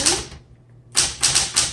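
Several quick, sharp clacks of keys on a 1960s Smith Corona Automatic 10 manual typewriter, a short burst, a brief pause, then three more strikes in a loose rhythm, close by.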